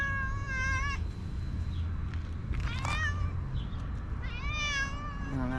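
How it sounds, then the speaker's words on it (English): A stray alley cat meows repeatedly, with drawn-out, wavering cries spaced across the moment, close and fairly loud against a steady outdoor background hum with no talking. "That alley cat."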